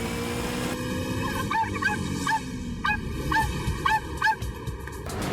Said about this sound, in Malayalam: എന്തിനാ ഡോഗി ഇങ്ങനെ കുരയ്ക്കുന്നത്?